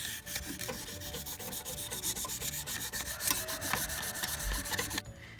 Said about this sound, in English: we're going to take some 600, or you could use 1200, just a fine grit sandpaper